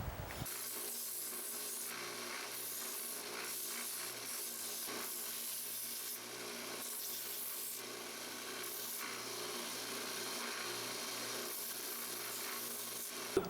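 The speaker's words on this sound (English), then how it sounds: "I'm just going to go with the 120 belt and finish everything off," Belt sander with a 120-grit belt finishing a hickory axe handle, a steady continuous abrasive rasp and hiss that runs unbroken and fairly close for the whole stretch, with no talking.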